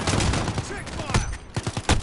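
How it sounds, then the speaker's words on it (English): Rapid gunfire bursts in Call of Duty: Modern Warfare, loud and close, sharp repeated cracks packed tightly over two seconds with a dense, noisy game mix behind them. "They're shooting at me!"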